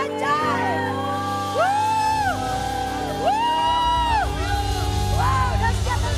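A church congregation at a service shouts and cheers, with rising and falling whoops and voices from a crowd that build in waves. Music plays underneath throughout.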